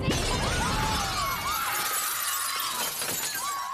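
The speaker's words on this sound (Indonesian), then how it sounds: "kaca jendela kelas pun pecah" Classroom window glass shatters in a film scene: one loud crash followed by a spray of tinkling shards that rings on and slowly fades over several seconds, with no voices.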